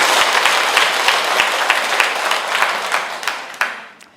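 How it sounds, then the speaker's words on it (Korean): An audience at a Catholic priest's lecture on happiness and contentment claps together in sustained, dense applause lasting the whole moment, steady and fairly loud with a few sharper claps standing out near the end. "박수 한번 쳐주시기 바랍니다"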